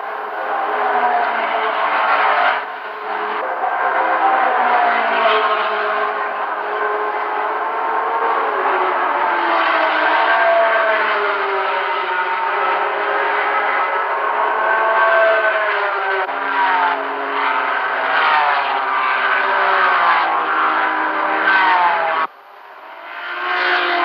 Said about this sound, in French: en septième position, la Porsche numéro 23, pilotée par Clausen